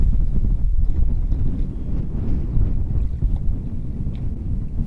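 Strong gusting wind on a lake buffets the microphone on a fishing boat, a steady low rumbling roar that continues throughout with no talking.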